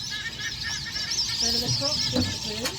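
Ducks call near a riverbank in Australia's Northern Territory, with a dense, continuous chorus of overlapping honking quacks from a flock close by.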